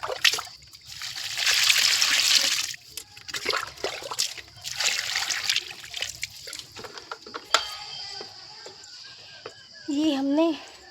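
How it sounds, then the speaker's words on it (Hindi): Water is poured onto dry potted plants and trees in a home garden, with steady splashing and trickling in long pours. People talk in between, and a rooster crows briefly near the end. "मिलकर डालते हम पेड़ों में पानी"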